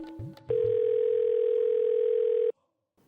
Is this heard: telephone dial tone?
yes